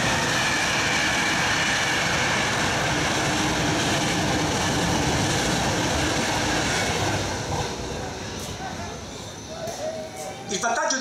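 A train passes by during an outdoor biofestival talk in Pedaso, a loud sustained rumble and rushing roar filling the scene for several seconds before easing off, with a voice speaking underneath.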